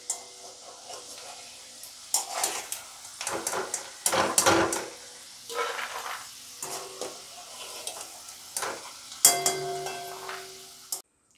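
Peanuts frying in hot oil for Bengali chire bhaja, with soft sizzling broken up by bursts of stirring and scraping in the pan, close by and uneven in rhythm.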